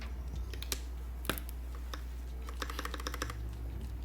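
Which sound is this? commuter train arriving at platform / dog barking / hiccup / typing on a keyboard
typing on a keyboard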